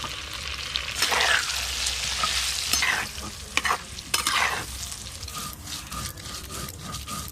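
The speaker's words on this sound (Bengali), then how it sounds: "তেল খুব ভালো করে গরম হয়ে গেছে কেটে ধুয়ে রাখা আলুগুলো দিয়ে দেবো লবণ হলুদ গুঁড়ো" Potatoes seasoned with salt and turmeric frying in hot oil, a steady loud sizzle broken by several scraping stirs of a utensil in the pan, with no talking.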